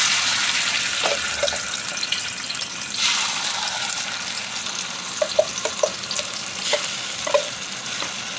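Ground masala paste of onion, tomato, dried coconut, ginger, garlic and coriander hits hot oil in a kadhai for a soya chunks curry. It sizzles loudly and continuously, with small clinks and scrapes from stirring throughout.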